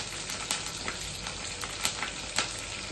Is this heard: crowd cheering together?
no